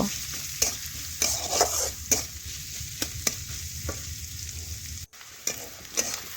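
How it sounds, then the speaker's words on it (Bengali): Onions frying in oil keep up a constant close sizzle while a spatula scrapes and stirs them in sharp, irregular strokes across the pan, with no talking. "এখন পেঁয়াজ ভালোভাবে নাড়াচাড়া করে একটু লাল লাল ভাজা হওয়া পর্যন্ত আমি অপেক্ষা করে নেব"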